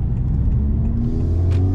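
A Honda Civic Type R or VW Golf R accelerating hard, engine note rising steadily in a close, loud, brief pull.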